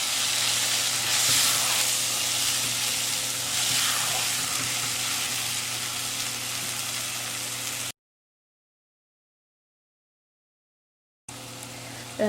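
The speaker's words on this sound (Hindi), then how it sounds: "दाल जो है वो मसाले के साथ मिक्स कर ली है" Boiled mash dal sizzling in a pan as it is stirred into masala, a loud steady hiss for several seconds, then a gap of silence before the sizzle briefly returns.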